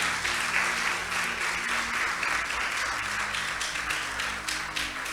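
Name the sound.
audience applause in church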